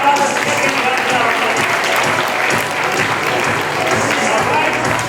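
An audience applauds at a quiz competition grand finale, steady dense clapping that stays loud and even for the whole stretch.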